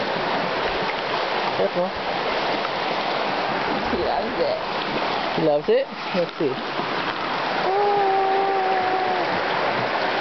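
A river at Red Rock State Park rushes with a steady, broadband flow close by, while people talk over it.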